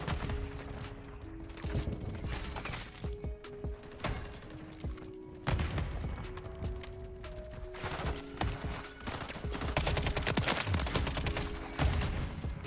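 Rapid submachine gun fire from a WSP 9 in Call of Duty MW3, dense bursts mixed with busy game effects and a low droning background throughout.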